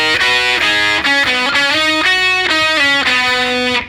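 A distorted electric guitar plays punchy double-stop notes in a bluesy minor-scale lick, loud and up front, with several sliding and ringing phrases and no voice.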